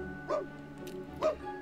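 A puppy gives two short, high yapping barks a second apart, moderately close over a faint steady background hum.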